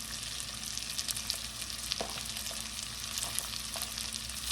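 Slivered cabbage and carrots stir-frying in a pan, a dense continuous sizzle close up with a few light crackles and stirring scrapes, no talking.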